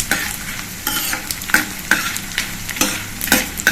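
Gond, almonds and cashews roasting in hot ghee over low heat, with a steady close sizzle broken by repeated stirring scrapes and clinks in an irregular rhythm, no voices.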